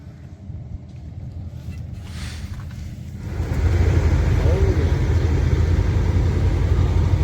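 A tractor engine rumbles nearby and grows louder about halfway through, a low steady drone as it approaches during a paddy harvest, with faint voices early on.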